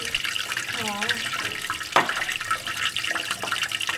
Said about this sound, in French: C'est la station d'épuration qui rejette de l'eau claire, donc traitée dans la rivière.